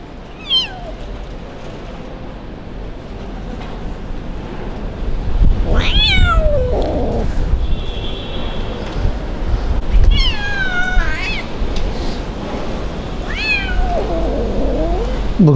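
An abandoned kitten on a cold, rainy street cries with several loud, rising meows spread across the stretch, sheltered under a roof, with steady low rumble and wind noise behind.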